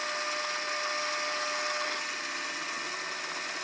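A steady, high-pitched drill whine runs unbroken throughout as a lubricated bit drills a hole for tapping, a close and constant mechanical drone with no voices.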